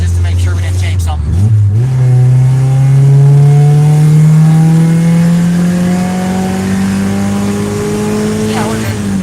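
A tuned Mazda Miata engine pulls hard in third gear, its loud, steady drone climbing smoothly in pitch for several seconds after a brief dip near the start, heard close up with no talk over it.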